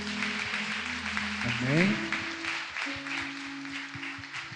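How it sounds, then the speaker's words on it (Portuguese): A church congregation claps for Jesus during a sermon, the steady patter of applause running under sustained musical tones while someone briefly speaks. "Vamos dar uma salva de palmas para Jesus"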